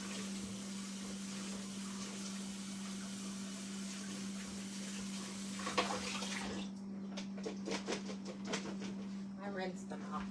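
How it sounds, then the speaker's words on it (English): Strawberries are rinsed under a steady stream of running tap water, a continuous hiss for about six seconds, then the flow stops and light clinks and handling noises follow. "Let me lay these grapes out and rinse these strawberries off."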